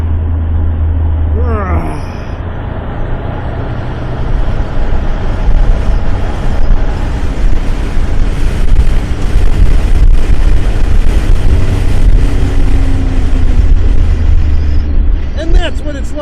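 A 1985 Buick Regal with a 3.8 V6 road racing in the rain, its engine a loud, constant low drone inside the cabin with steady road and wet tire roar, under a person talking.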